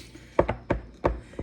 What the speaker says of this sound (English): Stir with the dowel.